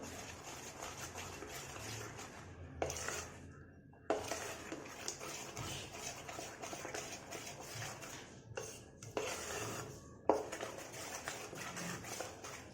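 A spoon stirring thick rava cake batter with milk in a bowl, giving soft repeated scraping and clinking against the bowl with short pauses, close and fairly quiet.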